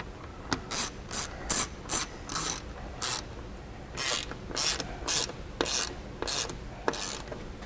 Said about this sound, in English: Once you're good, then you can go ahead and just tighten it down.